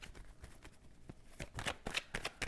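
Tarot cards being shuffled for a reading: a steady run of soft papery riffles and slaps, growing busier and louder toward the end, close and alone with no talk.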